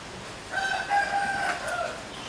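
A rooster crows once in the distance at a Réunion home kitchen, its long wavering call faint over steady background hiss.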